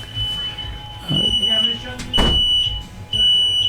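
A high-pitched smoke detector chirps steadily beneath people talking nearby, the shrill tone persisting through the voices.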